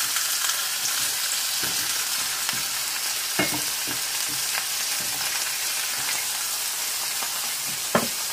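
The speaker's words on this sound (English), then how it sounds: "once you hear that sizzle" Steady, dense sizzling of burger patties frying in a hot pan, with occasional sharp crackles and pops and a brief clink near the end, no voices.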